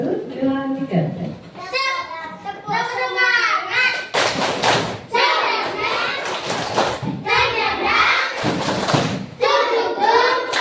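Schoolchildren in an Indonesian classroom perform a spirit clap chant, sharp rhythmic claps and thumps in bursts alternating with loud group chanting voices, close and energetic.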